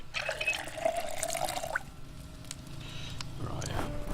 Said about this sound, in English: let's fill up that kettle